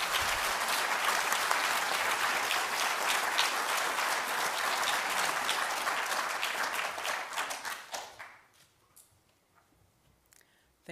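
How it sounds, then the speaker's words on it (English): Dense, steady audience applause at a digital preservation awards ceremony, loud and full for about eight seconds before tapering quickly into quiet with a couple of stray claps. "So I think we should give Barbara a round of applause as well as they come forward."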